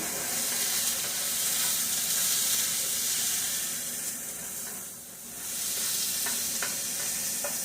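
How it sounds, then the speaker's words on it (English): Mushrooms sauté in a pan for pasta, giving a constant loud hissing sizzle up close that dips briefly in the middle, with scattered soft stirring scrapes and no speech. "I'm just gonna get these mushrooms melted down a little bit cooked"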